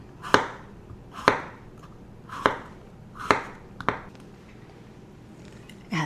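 A knife thinly slices a small cucumber with its seeds removed, producing five crisp, evenly spaced chops against a cutting board, close and clear, with quiet gaps between cuts.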